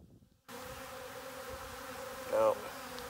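Bees buzzing inside a water meter box, a steady close drone that begins abruptly and holds throughout, with a brief louder swell near the end.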